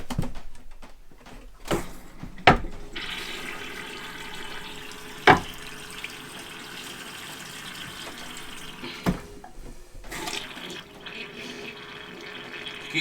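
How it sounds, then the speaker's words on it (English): A camper toilet being flushed and filling after dewinterizing gives a steady running-water rush with several sharp clunks and knocks from the bowl and plumbing, close by. "I also need to flush the commode."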